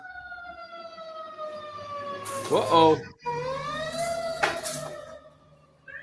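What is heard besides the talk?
sirens approaching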